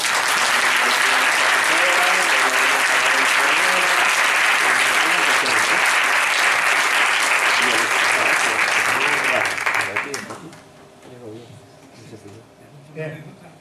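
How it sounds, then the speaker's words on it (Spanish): A seated audience at a literary round-table gives a loud, sustained round of applause that lasts about ten seconds, then fades quickly into quiet room sound. "para el que pido un fuerte aplauso"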